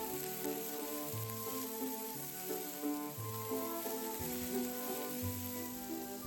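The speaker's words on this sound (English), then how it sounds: "Add another tablespoon of oil and pepper and onion. Stir until the onion becomes translucent." Pepper and onion fry in hot oil while a pork tenderloin dish is cooked, giving a steady, even sizzle that continues throughout, with soft tonal music underneath.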